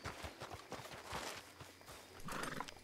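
Horse hooves clip-clopping along in Red Dead Online, a steady rhythmic series of fairly close hoof falls over a busy game ambience, with an occasional whinny-like sound and no talk.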